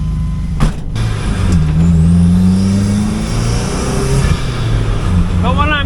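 A VW MK1 Golf with a 1.8t engine and all-wheel drive pulls away down a road, its engine note rising and falling loudly and close, with brief talk near the end.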